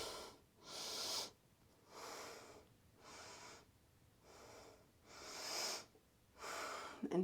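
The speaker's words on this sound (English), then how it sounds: "5 deep breaths through the nose." Deep, slow breathing through the nose during a hatha yoga class, with six or seven long rhythmic airy breaths alternating in and out, close and fairly quiet, with no talking.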